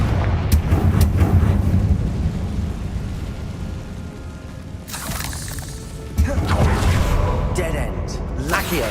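Confringo blasting spell explosions in Hogwarts Legacy inside the Feldcroft Catacomb, a dense rumbling game soundscape with a sharp burst near the middle and another loud blast toward the end over continuous low-end noise.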